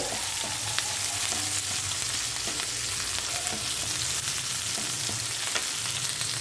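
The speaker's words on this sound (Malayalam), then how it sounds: "പച്ചമുളകും കൂടെ ഇതിലേക്ക് ചേർത്ത് കൊടുത്തിട്ടുണ്ട്" Green chilies fry in oil for a Kerala-style fish molly, giving a steady close sizzle with scattered light clicks and pops throughout, and no voices.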